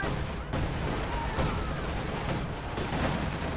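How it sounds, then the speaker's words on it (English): Anti-tank grenades exploding amid dense battle noise in Company of Heroes 2, a steady wash of gunfire and blasts with a few sharper bangs, loud and continuous throughout. "Anti-tank grenades there going off."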